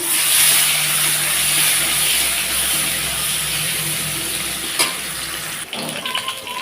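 Crushed whole garlic and black cumin seeds hit hot oil with a loud, steady hissing sizzle close by, ending with a sharp clink and a few stirring knocks.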